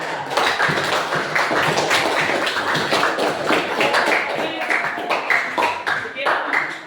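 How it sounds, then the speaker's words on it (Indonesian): A classroom group applauds together, a dense, steady patter of many hands clapping close by for several seconds, with some voices mixed in. "beri aplaus untuk kelas kita"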